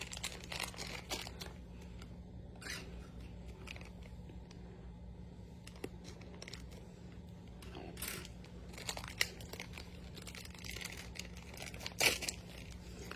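A small plastic bag from an Animal Jam toy treasure chest crinkles and rustles quietly in short, scattered bursts, close by with no voices.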